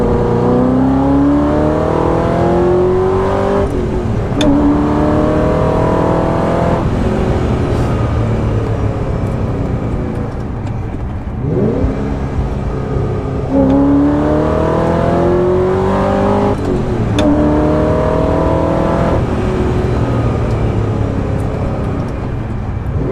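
An 05-06 Ford GT exhaust revs loudly and up close, rising and falling through repeated throttle blips and climbing engine notes that roar on without a break.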